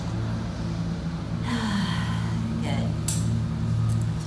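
A slow, deep breath is drawn in through the nose and then released through the mouth in a soft, breathy exhale, heard close during a chair yoga session over a steady low hum.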